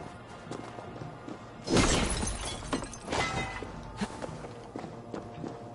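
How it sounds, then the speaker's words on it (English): Breakable objects smashed in Assassin's Creed Valhalla, a loud crash and shatter followed by scattered clattering debris and a few footsteps, with quieter impacts trailing off afterward. "I don't know why I keep smashing those, like I don't need the iron from them anymore."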